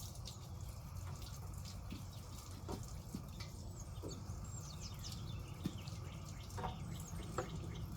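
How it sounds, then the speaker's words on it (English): Water from a garden hose splashes and trickles steadily, with scattered drips, and a few bird chirps sound faintly in the background. "Then you take the water hose, wash it off."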